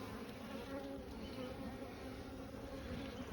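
Agitated honeybees in an open hive make a dense, continuous buzzing drone, close and steady throughout with no talk.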